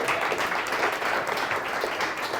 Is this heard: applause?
yes